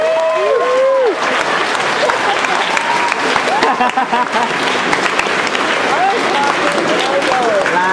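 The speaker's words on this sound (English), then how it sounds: "If you're happy and you know it, clap your hands." An audience at the Kamicon 2011 anime convention panel claps in dense, continuous applause lasting several seconds, loud and close, with scattered cheers and voices mixed in.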